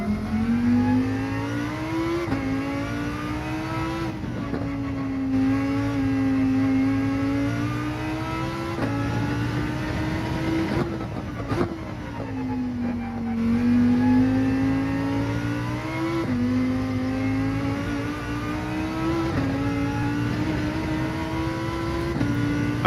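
Simulated car engine in a racing video game revs continuously, rising and falling in pitch through repeated gear shifts, loud and alone with no talking.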